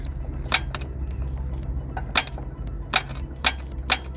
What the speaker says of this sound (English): Brake pads are rattling around inside the caliper.